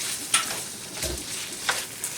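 Potato fries with a handful of fresh oregano being stirred in a cast iron skillet, a soft sizzle beneath a few distinct scraping strokes and light clinks, close and fairly quiet.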